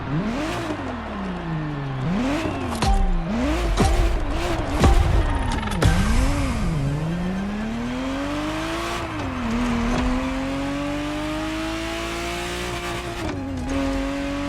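A Ferrari F50 sports car engine in The Crew Motorfest revs hard and close, its pitch rising and falling through repeated gear changes with a sustained high whine, loud and steady without talk.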